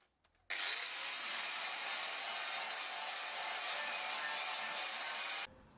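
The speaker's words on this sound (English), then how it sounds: "just needs these little bits grinding back and flattening off so that it all looks pretty factory" An angle grinder works steadily on a welded steel patch on a Land Rover Discovery chassis during rust repair, a loud, continuous high-pitched grind lasting about five seconds before cutting off abruptly.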